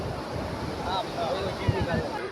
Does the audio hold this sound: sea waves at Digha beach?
yes